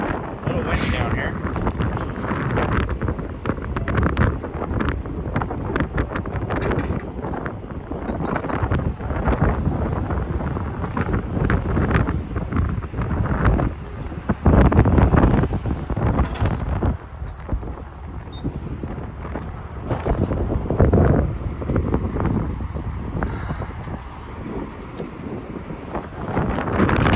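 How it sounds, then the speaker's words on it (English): Outdoors in a valley below snow-capped mountains, strong wind buffets the microphone in a loud, continuous rumbling roar with gusts rising and falling throughout. "A little windy down here."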